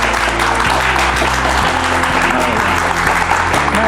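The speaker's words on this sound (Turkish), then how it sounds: "Efendim ilk konuğumuzu alkışlarla davet ediyoruz" A television studio audience claps in welcome for a medical aesthetics doctor arriving on a Turkish health program, a loud continuous round of applause layered with background music and a voice.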